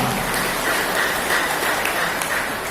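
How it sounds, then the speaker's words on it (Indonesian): Audience applause at a Batak association (HBB) gathering in Indonesia, a dense, steady wash of many hands clapping that fills the whole stretch at even loudness, with no talking over it. "Tepuk tangan untuk kita semua."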